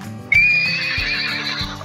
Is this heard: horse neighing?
yes